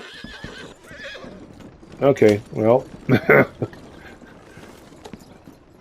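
A horse in Red Dead Redemption 2 gives a loud, close whinny around the two-second mark, followed by snorting neighs and clopping hooves, while someone talks over the game before and after.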